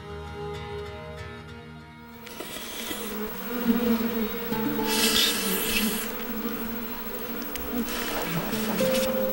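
Bees buzzing at a hive being tended, a steady humming drone that swells after a brief musical opening, close and moderately loud.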